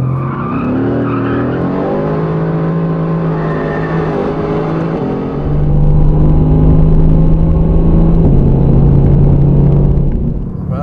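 Mercedes AMG GT-R with 585 hp pushed through tight corners, its engine note rising and falling between shifts as tires squeal, loud and close from inside the car.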